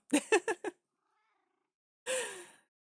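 Minecraft cats, a jellie and British shorthairs, give a quick run of four short meows, then after a pause one longer drawn-out meow, clear and close in an otherwise quiet game scene.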